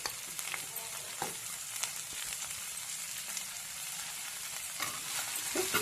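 Chopped onion leaves frying in a pan in a village kitchen, for an onion-leaf and curd dish. A steady crackling sizzle runs throughout, with scattered scrapes from stirring, close but moderately quiet, and no voices.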